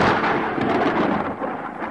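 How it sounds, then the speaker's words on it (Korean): Thunder from lightning in the atmosphere rolls as a steady, loud rumble with a broad crackling texture, sustained for about two seconds without a clear onset or fade. "서로 다른 이 두 얼음덩어리들이 충돌하면서 번개가 일어나게 됩니다"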